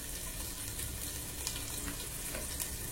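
Garlic and crushed green chillies fry in ghee with a steady, dense sizzle. It holds at an even level from start to finish, with no talking over it.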